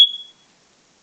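A Nighthawk smoke alarm gives one loud, shrill beep lasting about a third of a second, and then there is silence.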